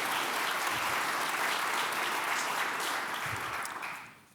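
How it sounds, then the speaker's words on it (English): A conference audience applauding panelists at a quantum computing and data center panel, dense sustained clapping that fills the room, then fades away over the last second. "Let's give them a round of applause just for being there."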